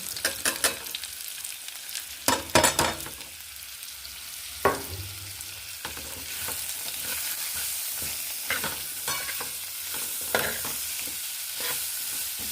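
Small whole taro pieces being sautéed in a pan with ground onion, ginger, garlic, turmeric and coriander paste in a village kitchen, a soft continuous sizzle punctuated by clattering stirs and scrapes, close and alone.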